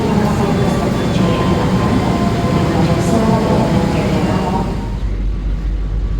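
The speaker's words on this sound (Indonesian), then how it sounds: "sekarang perjalanan naik kereta api Pasundan" Riding aboard the Pasundan passenger train: a loud, steady rumble and rattle of the carriage on the rails fills the whole stretch, with a voice faintly in the mix.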